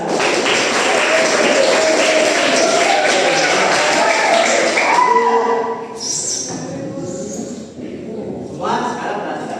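A classroom of students claps in counted rhythmic patterns for a group game, dense loud clapping filling the first half before thinning into scattered taps while a voice calls out instructions.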